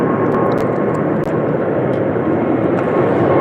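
Airplane droning overhead, a loud, steady broadband engine roar that holds throughout with faint clicks on top.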